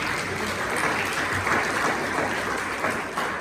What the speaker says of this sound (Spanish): Que darle fuerte el aplauso al Señor.